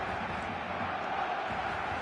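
Stadium crowd in the eFootball video game, a steady wash of distant massed voices and roaring murmur holding at an even level throughout.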